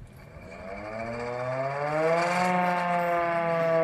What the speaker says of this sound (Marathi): फायर ब्रिगेडच्या गाडीवरती पण घंटा असतो ना, तो कसा वाजतो, कंटिन्यू वाजत असतो ना, तसं एक सायरन आहे